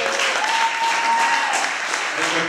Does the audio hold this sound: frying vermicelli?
no